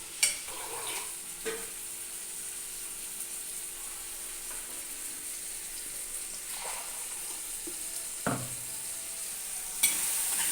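Quiet, steady sizzle of food cooking in a pan, with a few soft scraping stirs and light clinks now and then.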